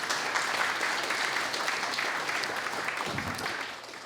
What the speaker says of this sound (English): Maybe a little bit of applause for Tesena again